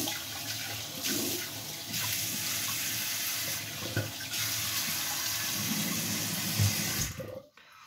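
A tap runs steadily in a sink, its rushing flow changing slightly as hands move under it to wet the face before shaving, then shuts off at the end.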